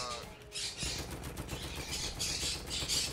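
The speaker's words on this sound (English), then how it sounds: "Their birds are very loud" Harsh bird squawks repeat in bursts over a dense, noisy Battlefield 1 game soundscape, loud and close.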